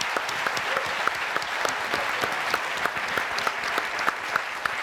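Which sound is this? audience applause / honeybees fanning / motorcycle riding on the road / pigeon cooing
audience applause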